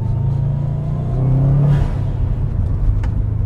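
A car on a test drive, its engine rumbling low and steady, then revving up in a brief swell near the middle before settling back to a cruising drone.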